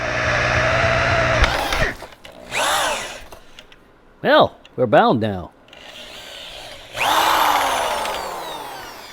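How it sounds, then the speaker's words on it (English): A power drill drills holes for shack grounding, in several separate bursts of whirring that spin up and wind down, loud and close, with brief speech between the runs. "I'm going to go ahead and drill a couple of holes"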